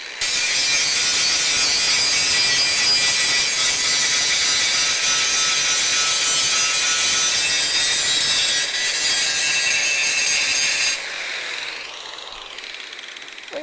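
An angle grinder works on welded metal in a garage, producing a loud, continuous abrasive whine and grinding that holds steady for around eleven seconds before easing into a quieter tail.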